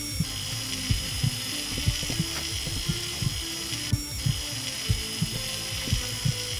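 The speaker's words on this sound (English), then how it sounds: "let us drill through the ribcage" Surgical drill cutting through a ribcage in Surgeon Simulator, a constant high mechanical whine with repeated ratcheting clicks and thumps about twice a second, close and steady with no talking.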